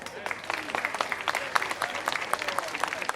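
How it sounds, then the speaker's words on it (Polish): Audience applause at a street festival on Chłodna Street, a dense steady burst of many hands clapping outdoors, loud and continuous with crowd noise throughout. "Proszę o oklaski."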